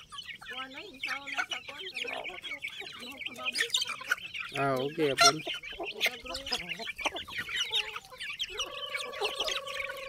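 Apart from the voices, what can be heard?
chickens clucking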